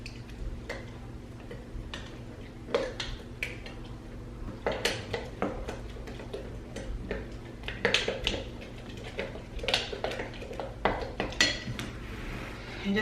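Fish being mixed with mustard seasoning and onion and garlic powder in a bowl, giving a steady run of close clinks and scrapes of a utensil against the dish, quickening in the middle, with no voices.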